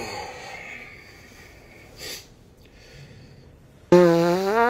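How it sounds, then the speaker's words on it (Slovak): A fart rings out suddenly and loudly after a quiet stretch, a buzzy, tonal blast close to the listener, preceded by a brief faint puff. "to si fakt prdol"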